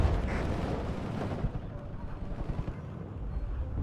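Bombing runs and explosions in the video game WARNO, a dense barrage of deep booms and rumbling blasts that thins into scattered thuds toward the end.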